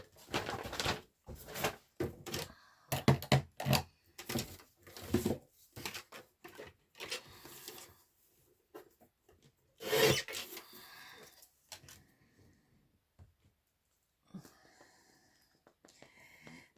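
A scrap of white card is cut straight with a series of close, dry rasping strokes that come in quick bursts for several seconds, then thin out into fainter, scattered scrapes.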